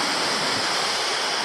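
Creek water cascading down toward Pelverata Falls in Tasmania, a loud, close, continuous rushing roar of tumbling water filling the whole moment with no other sounds.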